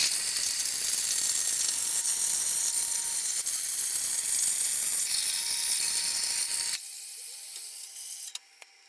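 A Langmuir Systems Crossfire Pro CNC plasma table cuts quarter-inch steel, giving a loud, steady hiss for about seven seconds. It then cuts off abruptly, leaving quieter background noise and a couple of faint clicks.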